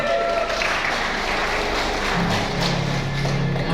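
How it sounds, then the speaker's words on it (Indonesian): Audience in a seminar room claps together in steady, sustained applause, a dense wash of hand claps lasting throughout with some low murmuring underneath. "Tepuk tangan."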